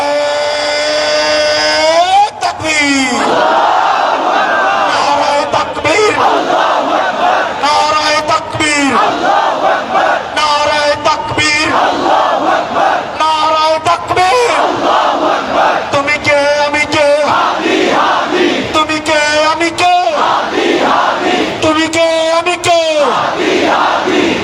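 A crowd chanting slogans at a street protest blockade in Shahbag, Bangladesh, loud rhythmic massed voices rising and falling in repeated call-and-response phrases, continuous and near.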